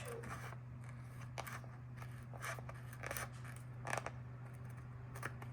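Scissors snip paper along an edge in a planner, a series of short quiet crisp cuts at an uneven pace over a low steady background hum.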